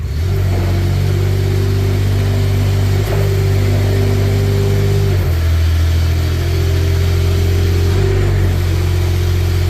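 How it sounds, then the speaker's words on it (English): A Kubota engine on a 2024 Manitou TMM45 four-wheel truck mounted forklift runs loudly and steadily close by, its idle rising and falling in pitch a few times with short revs, no talking. "So here's your Kubota coming to life"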